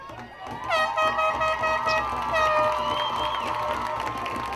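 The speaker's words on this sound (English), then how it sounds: "You hear the air horns going off." Loud air horns blare repeatedly over a cheering stadium crowd at a high school boys soccer playoff semi-final, long overlapping blasts rising and falling above the roar.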